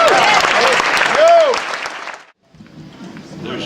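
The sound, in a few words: audience applause for Shelly Berman's introduction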